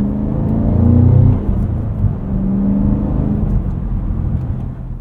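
The V8 of a 2024 Cadillac CT5-V Blackwing accelerates hard with a deep, loud engine roar. It swells for about a second, eases back, and keeps rumbling steadily from inside the moving car, with no talk.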